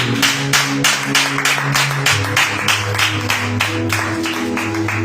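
A church congregation claps along in steady rhythmic unison, a dense run of loud regular claps over sustained music during a worship service, with no speech.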